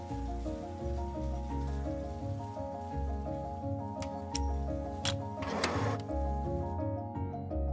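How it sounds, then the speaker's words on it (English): Yarn winding machines run in a denim spinning mill, a dense mechanical hum with layered tones and rapid ticking, punctuated by a few sharp clicks and a short hissing burst near the end. "The machine also monitors the moment when the bobbin reaches the end and needs to be glued to the next bobbin."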